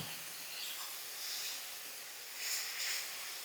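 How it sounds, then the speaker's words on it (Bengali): Spices, yogurt, tomato ketchup, cumin, coriander and chilli sautéing in a pan for a spicy Kashmiri potato curry, giving a steady soft hiss that swells in a few brighter bursts, close and alone. "এটাকে ভালো করে এবার আমি কষাবো"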